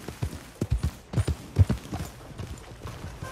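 Horse hooves clip-clop in Red Dead Redemption 2, an irregular run of close, soft thuds over about three seconds with light background ambience.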